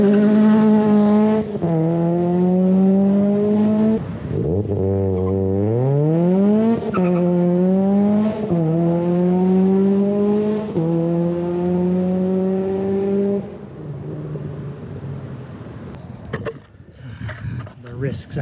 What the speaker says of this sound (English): Let's get the Miata out on the road and do some boosted pulls.